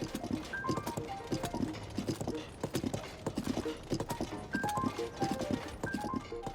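Galloping horse hooves from Tears of the Kingdom thud in a steady clip-clop rhythm, close and continuous, with occasional game chimes over the hoofbeats.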